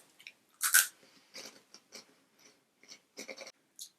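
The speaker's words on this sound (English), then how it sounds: "The puff is very crunchy, like a Cheeto." Crunchy pickled ginger rice cracker puff being chewed up close, a loud first bite followed by a series of quieter crisp crunches spaced irregularly.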